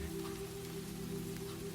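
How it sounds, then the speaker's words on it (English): Rain falls steadily outside a window, tapping softly on the glass in an even, continuous patter with a low steady hum beneath it. "rain is falling in patient, silvery threads. It taps softly on glass."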